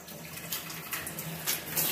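An IN2ITION shower head runs in rainfall mode, a steady close stream of falling water with irregular splashy surges, moderately quiet and continuous, no voices.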